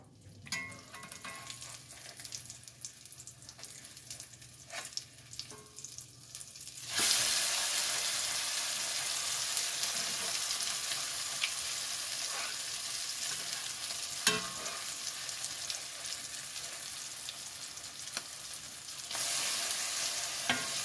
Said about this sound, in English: I think I need to fry it a little longer on that one side before I turn it